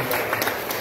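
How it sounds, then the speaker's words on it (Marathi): A church congregation claps loudly in a short, dense burst of overlapping handclaps. "परंतु त्या गाण्यासाठी आपण प्रभूला जोरात टाळ्या वाजून धन्यवाद करूया."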